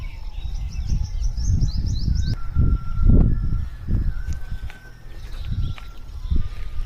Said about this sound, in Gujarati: લેલાડા આવ્યા છે, ખીચકોલા આવ્યા છે, કાબરું આવી છે.